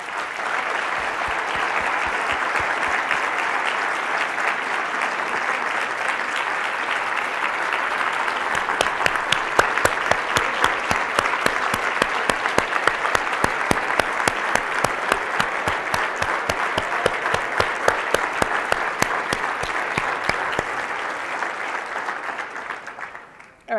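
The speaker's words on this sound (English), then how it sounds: "I think we all deserve a round of applause." Sustained audience applause after a conference talk on gene therapy and genetic editing research, dense steady clapping from a large crowd that swells with sharper claps midway and fades out at the end.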